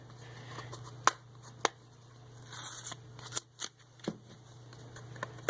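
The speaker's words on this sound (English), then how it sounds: "We can pull this tape off now, it's had plenty of time to dry." Masking tape is peeled off a styrene scale model of a Star Wars A-wing, giving quiet, close crackling rips and a few sharp ticks and snaps spread over the moment.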